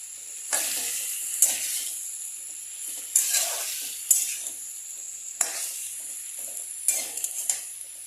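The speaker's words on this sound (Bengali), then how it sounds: "সব সবজিগুলোর সঙ্গে ভালো করে এটাকে মেশাবো" Vegetables for khichuri are stirred in a frying pan, giving bursts of hissing sizzle and scraping strokes that come and go every second or two, close and fairly loud.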